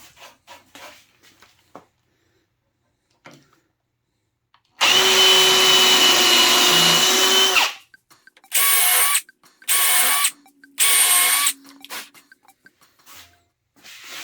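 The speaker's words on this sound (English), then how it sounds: "Now I'm going to use a 13th 64th drill bit to drill the holes for the screws." A power drill with a 13/64 bit bores screw holes, first in one long whirring burst of about three seconds, then in three short bursts separated by quiet pauses and faint handling noises.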